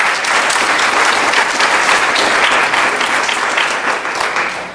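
Sustained, full applause from the audience at an American Indian regalia showcase, loud and continuous, easing slightly toward the end.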